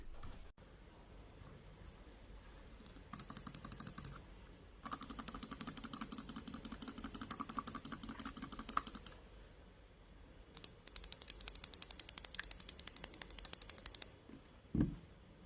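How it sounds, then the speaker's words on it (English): A computer mouse clicked as fast as possible in bursts of rapid, evenly spaced clicks, close and crisp, with short pauses between runs and a thump near the end. "Normal clicking is basically just clicking the mouse but as fast as you can."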